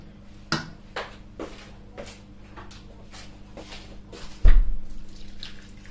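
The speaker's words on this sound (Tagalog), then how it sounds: "Tapos lalagyan ko ng konting tubig." Water poured in small splashes onto spareribs cooking in a pan, with several short wet bursts and clinks of utensils, then a louder closer splash and sizzle near the end.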